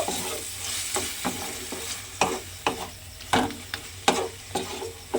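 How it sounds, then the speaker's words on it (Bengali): Cabbage stirred in a pan with ghee and garam masala, a soft steady sizzle broken by repeated scraping strokes of a spoon against the pan, about a dozen irregular scrapes close by. "ঘি আর গরম মশলাটা আমি এখানে দিয়ে দিলাম, দিয়ে খুব ভালোভাবে এটা একটু মিশিয়ে নেব"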